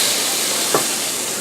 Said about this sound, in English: Now, that is sizzling a bit too much.